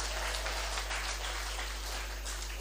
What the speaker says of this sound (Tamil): இதுக்கே இன்னொரு கைத்தட்டு கொடுங்க சார் அந்த மனுஷனுக்கு